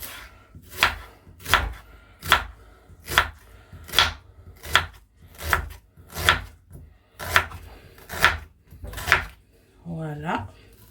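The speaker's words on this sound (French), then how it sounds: "nous coupons notre oignon" Knife chopping an onion on a cutting board, a dozen firm, evenly spaced cuts in a slow rhythm, close and crisp, followed by a brief voice at the end.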